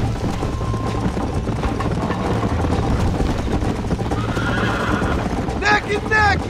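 Horses in the Red Dead Redemption game gallop with a rumbling clip-clop under shouting voices, and a loud whinny breaks out near the end.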